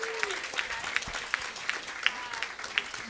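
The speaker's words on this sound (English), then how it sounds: "let's go ahead and give Fissler students a round of applause" An audience applauds students at a school board meeting, a short stretch of scattered, evenly spaced claps that sounds thin and slightly distant, with talking over the top.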